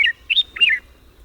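Himalayan bulbul gives three quick bright call notes, each a short whistled warble, close and clear against a quiet background.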